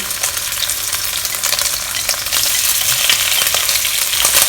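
Prawns hit hot oil alongside ginger in a stir-fry over medium heat, producing a loud, dense, continuous sizzle close by that swells slightly partway through, with occasional stirring scrapes.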